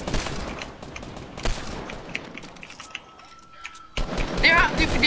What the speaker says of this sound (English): I'm gonna shoot the tree.